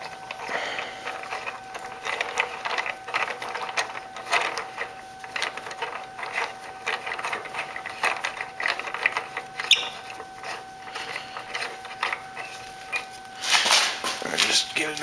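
A ratchet works a bolt on a 2007 Kawasaki ZX-6R motorcycle frame slider, with clicking mechanical ratcheting and some louder bursts heard close by, mixed with background noise.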